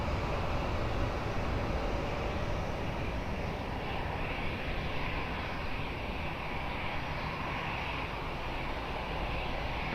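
Airliner on approach to runway 20 at Lisbon Airport, a steady, broad jet roar that holds at a fairly even, moderate level throughout, with no voices.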